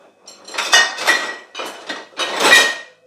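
A spoon scrapes and clinks against a small plate while scooping away homemade Ayurvedic ghee, four or five close, rough scraping strokes in quick succession with no talk.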